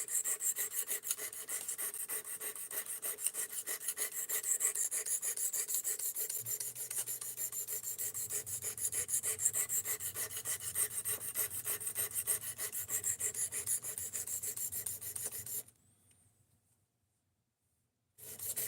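Steady, continuous rasping as a blade is stroked across a sharpening stone at a fixed bevel angle, close and fairly even, with a faint low hum joining partway through, then a sudden stop into near silence.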